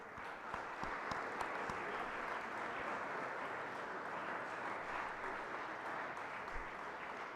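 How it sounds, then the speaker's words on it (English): A seated audience at a spiritual talk by a BAPS speaker applauds, a steady, even patter of many hands clapping, somewhat distant and held at one level throughout. "A loud applause for all of us."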